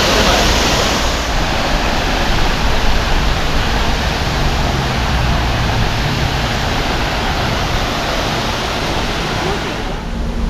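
Duden waterfall in Turkey, a loud, continuous rushing roar of falling water heard up close, unbroken and steady for the whole stretch.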